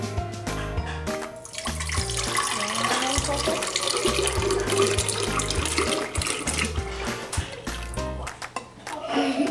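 Water pours steadily into a lemon and strawberry mixture for lemonade, a continuous close splashing stream, while music plays underneath and a voice talks over it.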